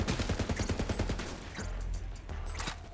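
Rapid gunfire in Borderlands 3 on PC, playing as Zane while shooting at an enemy: a quick rhythmic burst of shots, then heavier blasts and game effects, loud and close.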